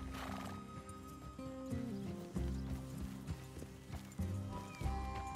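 Horses in Red Dead Redemption 2 nearby, with neighing and whinnying prominent over a steady game music bed, and hoof clip-clop mixed in among layered ambience.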